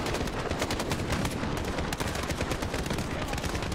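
Dense, continuous automatic gunfire in Call of Duty Modern Warfare. Rapid overlapping bursts keep up a loud, unbroken roar of shots for the whole stretch.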